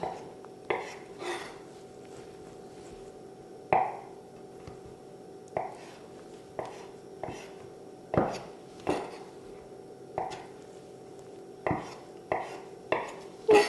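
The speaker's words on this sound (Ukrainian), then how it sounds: "Так само на половину, цю половину і ще на половину. І теж от такими от великими кусочками." A knife chops a boiled egg into large pieces on a board, about a dozen separate sharp knocks at an uneven pace, close and crisp against quiet background.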